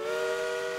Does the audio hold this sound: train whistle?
yes